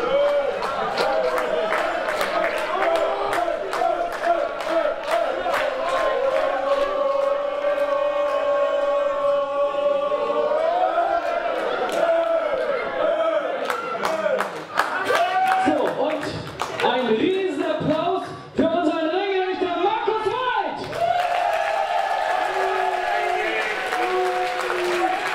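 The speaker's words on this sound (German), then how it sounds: "Ein Riesenapplaus für den Buffer!" A crowd at a wrestling event applauds and cheers continuously, with a loud, dense wash of clapping, whistles and shouts throughout, and voices mixed in.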